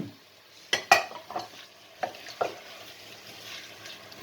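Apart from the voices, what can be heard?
curry with coconut milk and butternut squash cooking in pan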